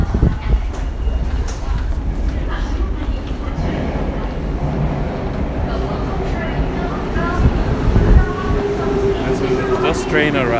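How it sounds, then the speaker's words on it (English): A train pulls into a station in Tokyo with a steady, broad rumble and rolling noise that swells slightly toward the end, with voices faint in the busy background. "Train arrived."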